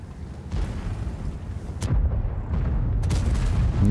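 A tank gun firing in World of Tanks, heavy booming blasts with a sharp crack near the middle and rolling rumble throughout, close and loud with no talk.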